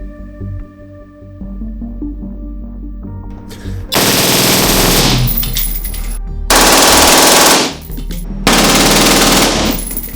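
A SIG MCX rifle on a low gas setting with a suppressor fires rapid automatic bursts, three loud sustained strings of shots separated by short pauses, preceded by quieter mechanical handling noise.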